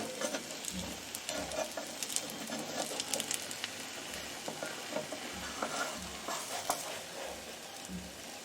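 An egg and onion tiffin frying in a pan as it is flipped and turned, soft sizzling under repeated spatula scrapes and thumps, fairly quiet and close with no voices.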